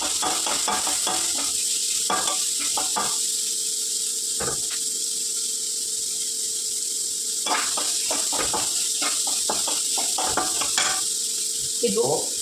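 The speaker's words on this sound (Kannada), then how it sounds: "ಇವಾಗ ಇದನ್ನು ಫ್ರೈ ಮಾಡ್ಕೊಳ್ಳೋಣ" Onion, carrot and cabbage stir-fry for a momo filling, a loud continuous sizzle with repeated scraping and tossing of a spatula in the pan throughout.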